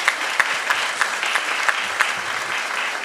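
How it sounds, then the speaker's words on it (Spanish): A conference audience applauds for about three seconds, a close, steady patter of clapping with a few sharper individual claps standing out and no talk. "Un fuerte aplauso también para ustedes que nos acompañan."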